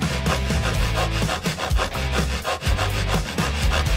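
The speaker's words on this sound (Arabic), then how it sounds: "استخدام المنشار متعب حقا" A hand saw rasps back and forth through a hard biscuit, a steady series of loud, close scraping strokes with brief pauses between passes.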